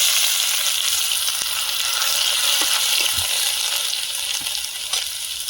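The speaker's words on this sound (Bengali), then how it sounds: "গোটা গরম মশলা তেলে দিয়ে দিচ্ছি দুটো তেজপাতা" Whole garam masala and two bay leaves dropped into hot oil give a loud, continuous close-up sizzling hiss with a few faint pops scattered through it.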